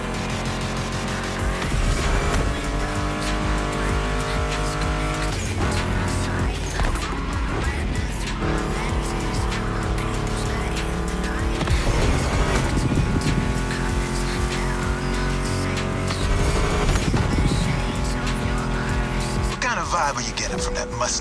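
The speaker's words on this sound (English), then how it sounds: "Meshes well with the sound of the engines, you feel me?" Muscle car engines, including a Mustang GT, roar and rev continuously in a video game race, with tire squeals and shifting gears, layered over driving music, loud and constant throughout.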